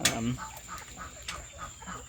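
Several backyard hens cluck in soft, irregular bursts close by, a short louder call at the start followed by quieter repeated clucks over a steady high hiss of background.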